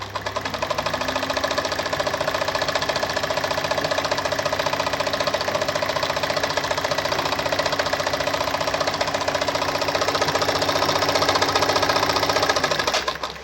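A Kayser model 138 automatic sewing machine sews a cam stitch pattern on slightly stretchy fabric, running in one loud, continuous fast mechanical chatter for about thirteen seconds before stopping.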